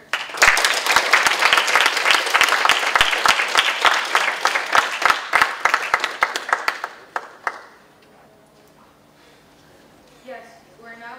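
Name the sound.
delegates clapping after resolution passes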